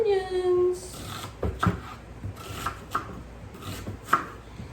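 Knife chopping a whole onion for an enchilada casserole, a handful of sharp, separate chops on a board at irregular intervals after a brief tonal sound, with a voice talking faintly in between.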